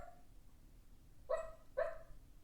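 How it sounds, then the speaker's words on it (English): A dog gives a short whimper, then two sharp, close barks in quick succession, heard alone against a quiet indoor background. "that is my dog."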